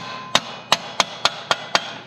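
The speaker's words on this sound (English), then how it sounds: "Just kind of use a rawhide hammer or a soft hammer or some type to get it past the tight spot there." Six sharp taps from a rawhide hammer on the shifter pawl of a John Deere B tractor during shifter rail installation, evenly spaced and close, ringing briefly against metal with no talk.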